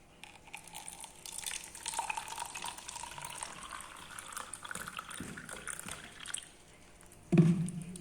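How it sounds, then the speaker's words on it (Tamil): Water running from a kitchen tap at home, a soft irregular trickling and splashing stream that swells and fades over several seconds, ending in a louder burst of splashing near the end; no talking. "தண்ணி"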